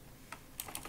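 A few quick keystrokes tap on a computer keyboard, faint and close, with one isolated click followed by a short burst of typing.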